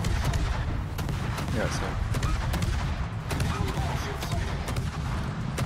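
Naval guns fire shell after shell in a warship battle game, a dense continuous barrage of booming shots with a voice talking briefly over the din.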